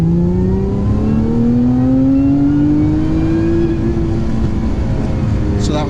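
A Lotus Emira sports car engine floored from 2,000 RPM up to redline, a loud continuous roar whose pitch climbs steadily across the run before easing at the top, heard from inside the car.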